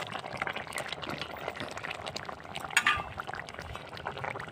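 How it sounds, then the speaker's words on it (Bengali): Fish curry broth with raw tomato and eggplant bubbles at a simmer as fish pieces go in, a close, moderately quiet mix of liquid bubbling, splashes and a light clink of utensil against pot. "ঝোলটা আমার ফুটে গেছে, এবার আমি মাছগুলো দিয়ে দেবো ঝোলে।"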